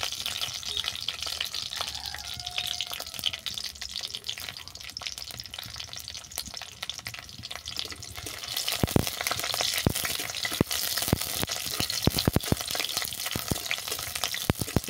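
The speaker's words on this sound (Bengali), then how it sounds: "এটাকে কিছুক্ষণ ভেজে নেব।" Dried red chillies, peeled garlic and green chillies frying in oil in a pan, a dense continuous crackling sizzle that grows louder and sharper partway through, with scattered spitting pops close by.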